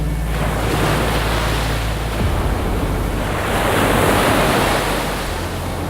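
Rough ocean water at a triathlon swim start surges as a broad, loud roar of surf mixed with gusting wind buffeting the microphone, continuous and unbroken with no talking.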